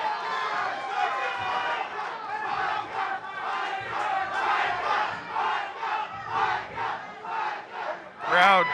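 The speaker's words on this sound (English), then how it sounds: "Crowd cheering for Jermicah Fisher" A crowd at an MMA bout roars and yells in rising and falling waves for a fighter, with shouted voices mixed into the cheering.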